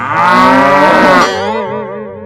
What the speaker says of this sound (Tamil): எரும மாடு குழியில விழுந்துச்சுடா.